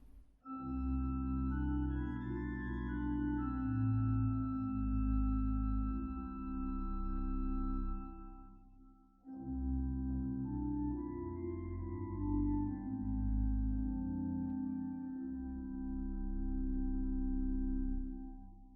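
A Rieger pipe organ sample set sustains soft, steady chords with the Terz stop added, giving a bright overtone-rich colour; two long held phrases separated by a brief pause, calm and even in loudness.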